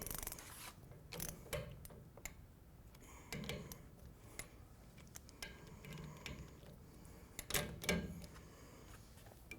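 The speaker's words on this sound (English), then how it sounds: "Now we're going to check the bushing bolts, and I'm going to confirm that they're torqued at 28 pounds." A wrench torques bushing bolts on Hartzell air-movement hardware, giving quiet, close ratchet clicks in several short separate bursts with pauses between them.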